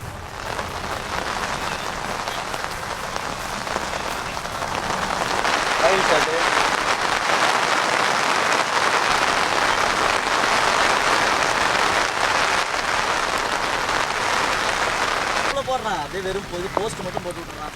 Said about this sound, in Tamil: சென்னை மற்றும் புறநகர பகுதிகளில் நள்ளிரவு முதல் கனமழை கொட்டி தீர்த்து வரும் நிலையில்